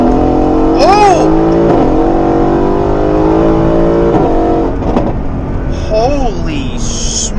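A 650whp Mercedes-AMG daily driver pulls hard through the gears, its engine droning loud and close from inside the cabin with rising pitch sweeps at each shift, while a voice exclaims over it.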